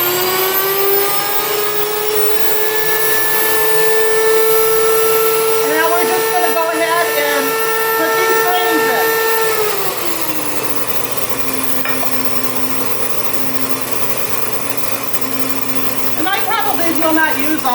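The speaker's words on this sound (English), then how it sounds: "Will not use all this flour that I'm grinding, but I'll use it during the week." Electric grain mill grinding flour at home, a loud high-pitched motor whine with a steady grinding rush that drops to a lower, settling hum about halfway through.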